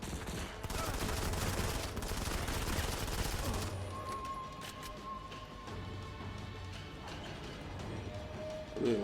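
Rapid weapon gunfire from the Modern Combat 5 video game comes as dense bursts of overlapping shots, loud and continuous at first, then thinner and more scattered while game sounds carry on.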